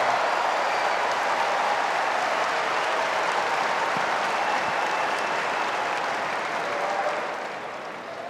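Tennis crowd on Arthur Ashe Stadium at the US Open applauding Dan Evans, a dense, steady wash of clapping from a large audience that holds for several seconds and eases off near the end.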